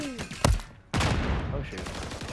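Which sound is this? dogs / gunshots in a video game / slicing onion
gunshots in a video game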